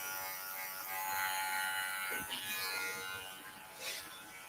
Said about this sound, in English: A little bit of clipper over comb just to soften it.